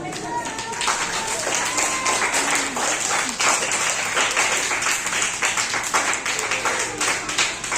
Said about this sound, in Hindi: एक बार जोर से जोरदार तालियों से स्वागत।